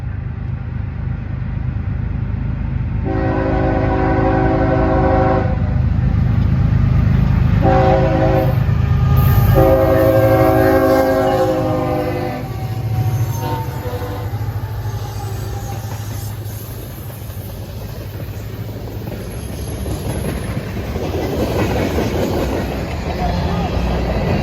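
A CSX freight train on a Hudson line, led by a former Conrail SD40-2 locomotive, sounds several loud horn blasts over the constant heavy rumble of its passing, with wheels clattering steadily.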